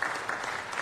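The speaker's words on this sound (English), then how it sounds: "Let's give these young boys and girls another big round of applause." Brief, fairly faint applause rises from the audience in a city council chamber for visiting young students, an even wash of clapping with no voices over it.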